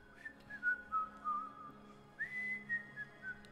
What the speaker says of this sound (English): The town crier is whistling.